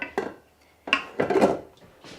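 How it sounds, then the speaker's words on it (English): Ingredients for a gluten-free pound cake are mixed in a bowl, giving a few separate scraping, clinking bursts with short pauses between them. "Now we're going to mix this."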